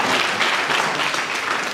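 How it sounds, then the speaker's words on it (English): Steady applause from an audience at a Gambian graduation ceremony for a youth network's third cohort, dense and even across the whole short stretch with no voices on top. "Can you please clap for me?"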